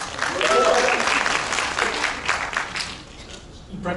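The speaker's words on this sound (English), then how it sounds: "Have a clap for him." An audience claps for a person praised during a talk about marketing, a steady burst of applause that fades out after a few seconds.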